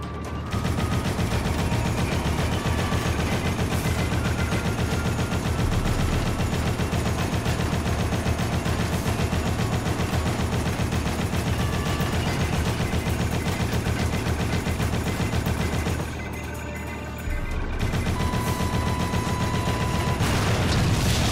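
Sustained automatic gunfire in the Dead Rising final boss fight against Brock Mason, loud, dense and near-continuous rapid bursts with a brief lull before firing resumes, alone without talk.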